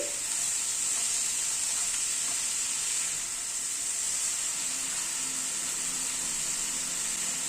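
Sliced ridge gourd sizzles in a pan with salt and turmeric, a steady frying hiss with faint stirring scrapes throughout, no talking.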